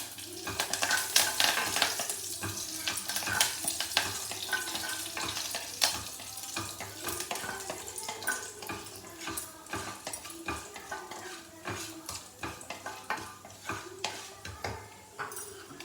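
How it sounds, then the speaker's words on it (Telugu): Mustard seeds, cumin, urad dal, chana dal and curry leaves sizzle and crackle in hot oil as a tempering for coconut chutney, a dense steady fry with frequent sharp pops and spoon scrapes, close and alone. "ఆవాలు, జీలకర్ర, మినప్పప్పు, శనగపప్పు, కరివేపాకు తాలింపు పెట్టాను."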